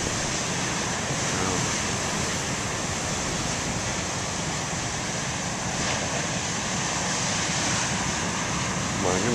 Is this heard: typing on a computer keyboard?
no